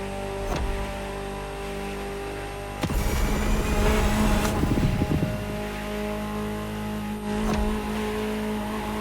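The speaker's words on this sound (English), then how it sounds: "Just listen to the car you're driving." Ferrari supercar in the racing game The Crew Motorfest, its engine droning steadily, then surging in a loud burst of revving with tire noise before easing back to a steady hum, alone with no talk.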